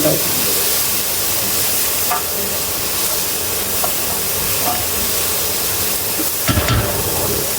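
Turkey pieces for biryani frying and being stirred in a pan, with a steady loud sizzle and hiss throughout and occasional scraping stir clatters, one sharper clatter near the end.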